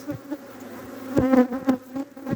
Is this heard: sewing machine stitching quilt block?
no